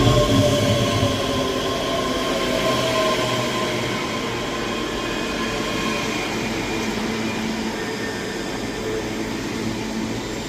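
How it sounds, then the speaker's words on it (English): A ScotRail train from Glasgow Central to Edinburgh Waverley pulls into Edinburgh Haymarket station, giving a steady loud rumble of wheels and running gear with faint squeals, gradually easing off slightly, with no talking. "Arriving in now is the 11:44 Scotrail service from Glasgow Central to Edinburgh Waverley."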